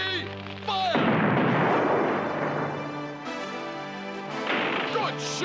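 Ship cannons firing during a naval battle, a loud sustained boom and roar lasting a few seconds, with voices shouting before and after the blast.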